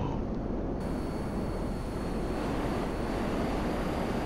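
The B-11 Strikeforce jet in GTA 5 Online gives a steady, loud engine roar that hums evenly and close throughout without a break.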